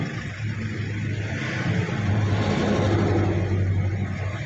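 A car crawling along in slow, heavy traffic, heard from inside as a steady low engine drone and road rumble that holds even and unbroken throughout.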